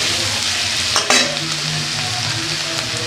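Young ivy gourd (kundri) sizzling as it fries in a pan while being stirred, a continuous hiss with a clatter of stirring near the middle, close and with no talk.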